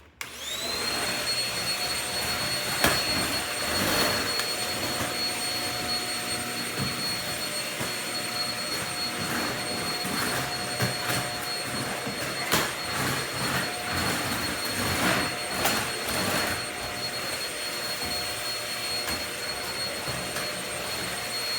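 A household vacuum cleaner runs steadily and loudly throughout a home cleaning session, with a constant high whine and airy roar that barely changes, occasionally bumping or shifting as it moves across the floor.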